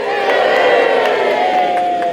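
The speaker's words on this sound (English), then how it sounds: "Give them a big cheer again." Wedding guests cheer and whoop loudly for the bride and groom, a dense crowd roar filling the short moment with no break.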